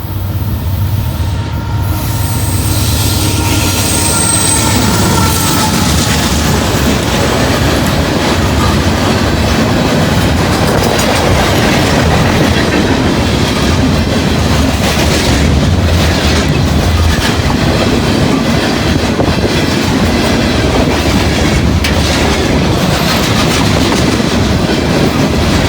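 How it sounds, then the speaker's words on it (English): A southbound freight train carrying steel coil rolls past on railway tracks, loud and close, with continuous rumbling, wheel clatter and faint squeals throughout, no voices. "Train right here."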